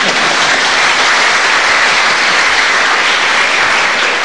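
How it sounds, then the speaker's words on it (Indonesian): A dense, even burst of audience clapping fills the room at full loudness for a few seconds, with no voices over it. "Ayo, boleh tepuk tangan."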